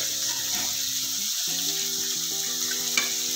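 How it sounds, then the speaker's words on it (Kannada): Green peas frying in a hot pan for vermicelli upma, a steady close sizzle and crackle with light stirring, one brief sharp click near the end. "ನೋಡಿಪ್ಪ, ಬಟಾಣಿ ಹಾಕ್ತಾಯಿದ್ದೀನಿ."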